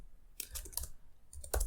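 Several quick bursts of computer keyboard key clicks while entering a Linux apt upgrade command, with close, crisp taps clustered in short groups and brief pauses between them.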